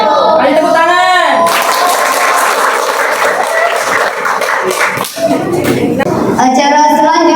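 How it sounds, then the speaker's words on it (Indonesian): An audience at a Maulid Nabi Muhammad celebration claps steadily for several seconds in a dense, continuous wash of applause. Voices are heard briefly before the clapping starts and again after it fades. "Ayo tepuk tangan."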